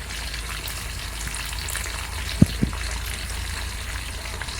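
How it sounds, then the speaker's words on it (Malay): Fish frying in a pan at a riverside campsite, a steady close sizzle and crackle running throughout, with two brief clinks of utensils midway. "Jadi kita goreng ikan, masak nasi."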